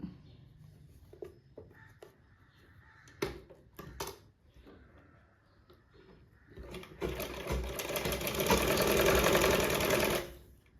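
A sewing machine stitches a blouse neck cross piece, starting with short clicks and brief bursts and then running in a steady, loud, continuous whir for several seconds before stopping.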